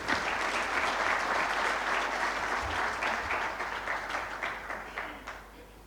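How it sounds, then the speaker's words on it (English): Sustained audience applause at a Nairobi Securities Exchange conference presentation, a dense wash of many hands clapping steadily for several seconds before gradually thinning out toward the end. "can we give him another warm round of applause?"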